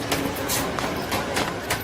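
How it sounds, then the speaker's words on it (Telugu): A train rumbles in with a low, continuous rolling noise and faint rail clatter, moderately close. "నాన్న ట్రైన్ వచ్చినట్టుంది."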